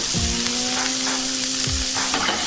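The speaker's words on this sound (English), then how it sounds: "Now it's time to turn the shrimp." Shrimp for New Orleans-style barbecue shrimp hiss and crackle loudly and steadily in a hot pan as they are turned, with a few soft scrapes and knocks breaking through the sizzle.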